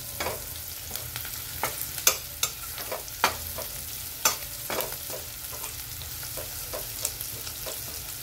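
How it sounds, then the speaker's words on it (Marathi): Onions sautéing in a pan for a leftover-idli breakfast dish, a steady close sizzle broken by a series of sharp spatula scrapes and taps at irregular intervals. "कांदा चांगला कलर बदलेपर्यंत आपल्याला परतून घ्यायचा आहे"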